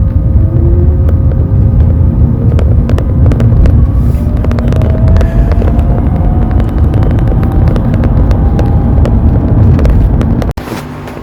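A budget DIY electric-converted VW Beetle accelerates off the line in a slow drag race, giving a loud continuous rushing drive noise with a faint rising motor whine, wind buffeting the microphone, before cutting off abruptly near the end.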